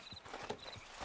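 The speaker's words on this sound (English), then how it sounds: "How's that horse treating you?" Horse hooves clip-clop at a steady walking rhythm in Red Dead Redemption 2, close and continuous with a faint tonal game ambience behind them and no talk.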